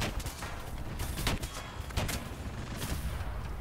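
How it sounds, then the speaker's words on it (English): Dense, sustained tank machine-gun fire in War Thunder, a rapid rattling stream with a few heavier bursts standing out, steady and moderately loud with no talk over it. "keep the machine guns going"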